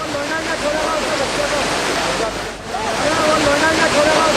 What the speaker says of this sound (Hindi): देखते ही देखते पानी का बहाव अचानक तेज हो गया।